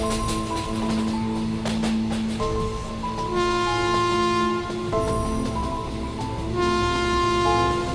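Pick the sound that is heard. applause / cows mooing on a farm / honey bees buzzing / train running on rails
train running on rails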